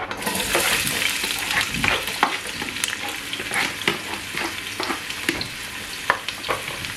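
Onion frying in hot oil as part of a large-family batch cook, a steady loud sizzle with repeated scraping stir strokes and a few clinks throughout, no voices.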